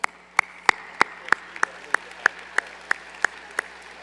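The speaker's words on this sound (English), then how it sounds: "I would appreciate if this committee, or this group would recognize them with an applause" Steady, evenly spaced claps ring out at a political party's organizing convention in Utah, about three per second, sharp and close, with no talking.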